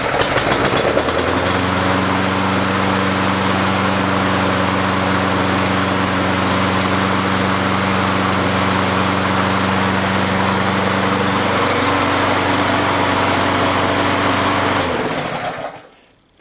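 An old, free lawnmower engine that had sat outside catches and runs: a loud, steady, close buzzing drone with a firm low hum, holding for about fourteen seconds before cutting off and winding down to quiet.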